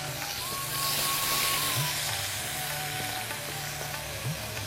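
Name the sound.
onion, garlic and ginger frying in oil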